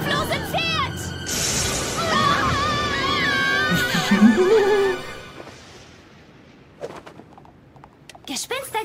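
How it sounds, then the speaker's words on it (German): A horse neighs loudly in a spooky ghost-story scene about a headless horse, a high quavering whinny over a few seconds, followed by quieter clattering and voices. "Das kopflose Pferd!"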